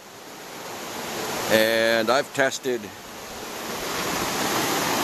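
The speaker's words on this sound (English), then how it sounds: "You got the river that comes down through here." A river runs down over bedrock in a steady broadband rush, close by and continuous, while someone speaks briefly in the middle.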